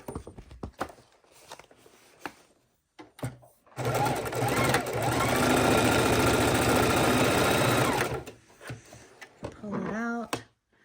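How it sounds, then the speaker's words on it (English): A sewing machine stitches across fabric and paper scraps in one loud, steady burst of rapid needle chatter lasting about four seconds, with quieter handling noises and some talk before and after. "let's stick that under the sewing machine"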